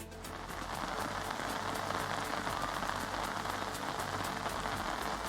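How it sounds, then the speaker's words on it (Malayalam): Heavy monsoon rain pours down steadily, a dense, even patter on surfaces that holds at constant strength throughout. "ഇപ്പോഴും മഴ ശക്തമായി പെയ്തു തുടങ്ങിയിട്ടുണ്ട്."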